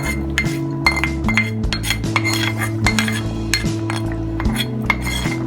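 Mustard-seed tempering goes into a pot of drumstick and dried prawn curry with repeated close metallic clinks and scrapes of a spoon against the pan, over soft background music.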